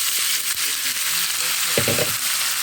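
Potato pieces sizzle in hot rendered pork fat with a steady, bright crackle, joined by a brief clatter of stirring or tossing near the end.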